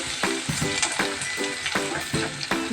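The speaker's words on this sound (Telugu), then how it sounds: "ఇది ఫ్రై అవుతుంది కదా" Crushed ginger and garlic frying in a pan, a bright sizzle broken by rhythmic scraping strokes of a spatula, about six stirs in quick succession.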